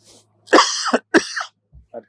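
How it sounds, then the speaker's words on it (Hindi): Two harsh, close coughs with a throat-clearing rasp, followed by a short quiet breath, otherwise silent. "बहुत खांसी आ रहा है"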